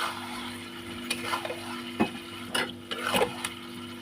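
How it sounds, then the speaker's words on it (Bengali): Mutton being stir-fried for kosha, hotel-style khasi curry, in a pan: a low sizzle under a steady hum, broken by several sharp ladle scrapes and knocks against the pan, no talk. "এবার মাংসটা বেশ করে কষিয়ে নেব"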